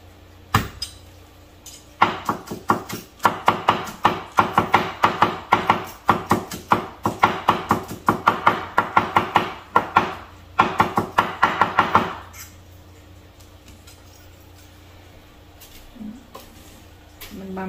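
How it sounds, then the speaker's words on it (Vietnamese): A knife chops garlic on a board in a rapid run of sharp, loud, evenly spaced taps lasting about ten seconds before stopping, close by, with no speech over it. "Còn this is garlic. We chop them."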